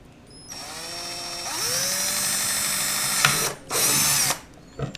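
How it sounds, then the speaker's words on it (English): A small power drill whines up to speed and runs steadily while drilling a small hole in plastic, briefly stopping and restarting, close by with no talking. "I'll get this little drill thing here and I would drill"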